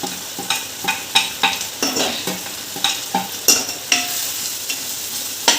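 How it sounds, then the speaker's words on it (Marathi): Cashew seeds being stirred in a pan with red chili powder and turmeric, giving repeated scraping clicks of the spoon in a steady rhythm over a soft background sizzle, close and clear with no talking. "आपला लाल मसाला आणि हळद टाकून हलवून काजूच्या बिया मस्त"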